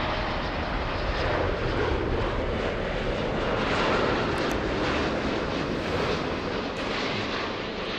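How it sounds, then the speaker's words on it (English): A Virgin Atlantic airliner arriving from London Heathrow after a long-haul flight roars steadily and loudly throughout, a broad continuous engine rumble with no pauses. "Big one coming in, Peter. We have Virgin Atlantic."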